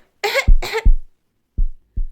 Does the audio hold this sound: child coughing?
yes